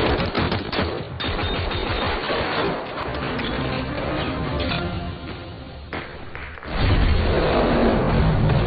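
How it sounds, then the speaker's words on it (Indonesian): Gunfire rattles through a shootout scene in a Donnie Yen action film, with dense, loud bursts of rapid shots and impacts that swell into a heavier barrage near the end, and no speech. "aksi baku tembak antara mereka pun terjadi"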